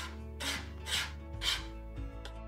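Chalk paint scraped onto a wooden craft piece with a dry brush, three or four slow rasping strokes in a steady rhythm, close and clear with no talking.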